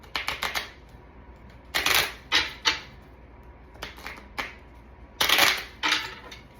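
A deck of playing cards is shuffled and cut by hand, giving several quick crackling bursts of riffling separated by short pauses, close and fairly soft.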